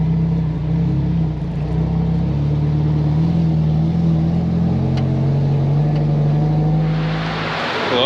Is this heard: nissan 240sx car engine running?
yes